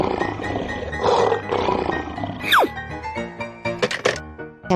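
A lion roars in a loud, rough burst near the start, set against a busy cartoon-style soundtrack with a sharp sliding whoosh and bright musical tones afterward.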